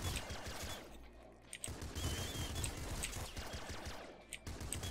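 An auto shotgun in the video game Nuclear Throne fires dense, rapid bursts of booming shots with brief pauses between volleys, set against a busy game soundscape with no speech.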